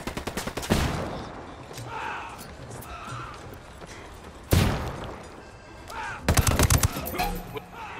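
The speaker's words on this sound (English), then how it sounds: "Throwing a flashbang." Flashbang blasts and bursts of gunfire from the video game Ghost Recon Wildlands, with sharp loud impacts near the start, middle and end, separated by quieter combat ambience.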